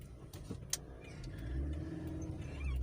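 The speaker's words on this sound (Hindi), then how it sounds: "इस वक्त इक्का दुक्का जो है ट्रैफिक नज़र आ रही है" Sparse road traffic in Islamabad, with a passing car's engine heard at a moderate distance, a low hum that slowly swells, and a brief clatter early on.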